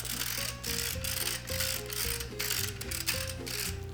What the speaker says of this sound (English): I'm gonna use my trusty ratchet mill and really go at it with some pepper